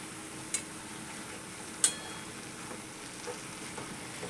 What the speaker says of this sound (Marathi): बघा इकडं शापू शिजती.